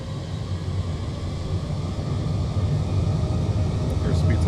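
Boeing 787-8 engines in Microsoft Flight Simulator hold takeoff power, a dense, steady broadband roar with deep rumble that builds slightly louder over the seconds.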